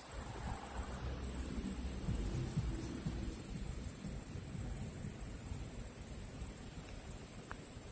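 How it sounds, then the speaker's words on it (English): Crickets chirping in a steady, continuous outdoor drone in Komolac near Dubrovnik, Croatia, with a low rumble of wind noise underneath and no talking. "Cricket sounds like when you need to clean your tape heads."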